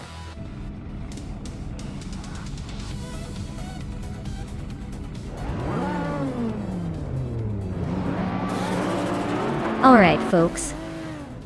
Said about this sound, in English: The race at Mid-Ohio is underway and in retro supercars.